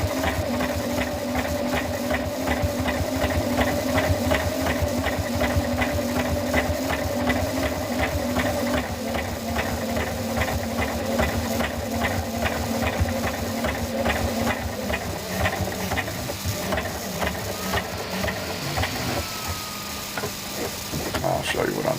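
A sewing machine stitches two pieces of fabric together, running in a steady whirring rattle beneath a constant hiss that shifts slightly toward the end.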